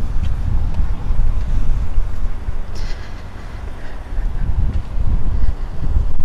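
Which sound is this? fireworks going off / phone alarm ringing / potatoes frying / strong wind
strong wind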